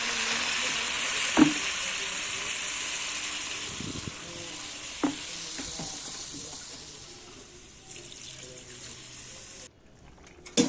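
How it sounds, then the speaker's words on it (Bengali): Water hits a pan of spice paste and cauliflower frying for a fish curry, giving a steady broad sizzle with a few sharp clinks and stirring knocks, ending in a sudden hush. "এবারে জল দিয়ে দিচ্ছি।"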